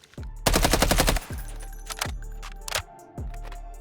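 Submachine gun fire in the video game Delta Force: one rapid automatic burst of about a dozen close, sharp shots, followed by several spaced single reports and mechanical clicks.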